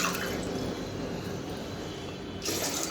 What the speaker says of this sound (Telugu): ఇక్కడ 5 గ్లాసుల వాటర్ వేసుకోవాలి